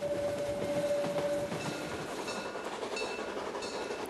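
A small narrow-gauge train of the Selketalbahn in the Harz rattles and clatters along steadily past a mountain lake at a moderate distance, with a brief high squeal of wheels early on.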